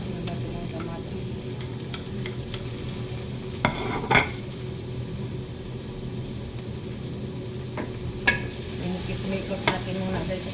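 Tomato is stirred into a hot pan with onion and garlic, a constant close frying hiss broken by a few distinct scrapes and taps of the spatula.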